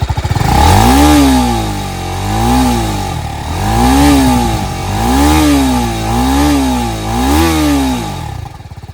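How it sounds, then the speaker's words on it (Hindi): A 2023 TVS Apache RTR 310 motorcycle engine is revved repeatedly past 5000 RPM, loud and close, with about five rising-and-falling throttle blips in a steady rhythm and a deepening tone at the top of each rev. "अगर इसको आप 5000 RPM के आगे रेविंग करते हो तो थोड़ा सा इसका आवाज़ जो है वो थोड़ा सा गहरा हो जाता है, सुनिए"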